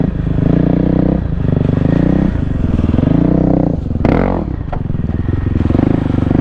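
A 2024 Kawasaki KLX300R dirt bike ridden cross-country, its engine droning loud and steady with rising and falling revs, a brief clattering burst of rocks or brush around the middle.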